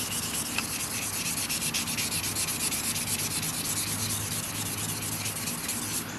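The old finish is sanded by hand off a Magnalite aluminum pot, a continuous, close scratchy rubbing with rapid back-and-forth strokes that keeps up for about six seconds.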